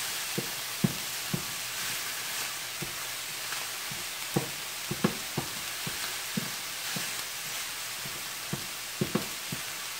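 Ground meat seasoned with salt and pepper sizzles steadily in a pan for a sloppy joe casserole, with scattered sharp pops and crackles over a constant frying hiss, close and with no talk.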